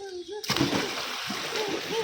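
A loud splash as someone jumps into a resort pool at the seaside in Batangas, followed by sloshing and churning water, with a voice heard just before and during the splash.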